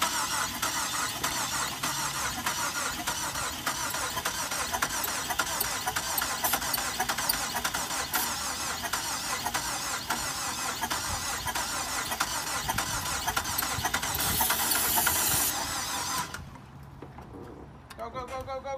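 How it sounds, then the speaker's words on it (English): A wrecked turbo PT Cruiser with a blown motor cranks without firing, a long, loud, high squeal running on for many seconds before cutting out, with voices talking nearby. "So we couldn't get the car started"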